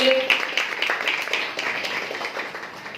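An audience applauds at a business opportunity meeting, with dense, steady clapping that holds for about three seconds and fades slightly toward the end.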